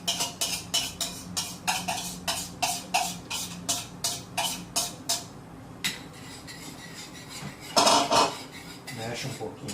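A utensil stirs cream with coconut milk in a bowl for a low-carb, gluten-free coconut pie, making a steady run of quick, close clinks against the bowl for about five seconds, then a softer scrape and one louder knock.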